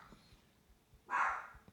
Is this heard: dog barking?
yes